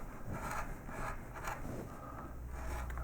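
Wood carved with a V-tool used like a chisel on a child's bedroom sign, giving soft close rasping and scraping strokes in a steady rhythm over low background noise.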